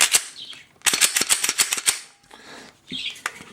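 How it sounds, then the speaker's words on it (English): Metallic clicks and snaps of a Glock 22 pistol being reassembled, a rapid burst of sharp, close, loud clacks with quieter handling noises between them, no talking. "As always, reassemble your gun."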